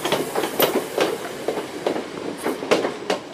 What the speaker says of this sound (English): pulling in now is going to be our final train of the day